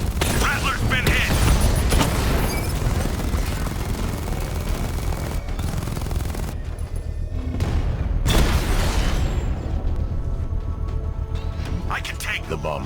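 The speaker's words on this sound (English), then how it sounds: "The bomb's payload is exploding." A bomb payload explodes in the Batman Arkham Knight video game, with heavy booms and rattling gunfire-like bursts filling a dense, loud mix while voices speak over the action.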